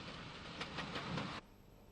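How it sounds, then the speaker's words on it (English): A train of Great Northern coaches on the Belfast to Cork Enterprise, hauled by 400 class locomotive 460, rolls past with a rumble and a few rhythmic wheel clacks that stop abruptly. "the Great Northern rake of coaches on the Belfast to Cork Enterprise, hauled by a 400 class 460"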